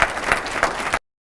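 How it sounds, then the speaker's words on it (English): Applause from a board meeting audience for all-state students, a short burst of dense clapping at moderate loudness that stops abruptly. "So give them another round of applause"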